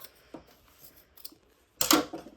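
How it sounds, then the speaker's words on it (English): Scissors trimming a fabric corner on a feed bag tote, heard close up as a few soft, sparse snips followed by one louder, sharper cut near the end, with no talking. "I'm going to take my scissors and make sure I don't have anything behind that I'm accidentally cutting."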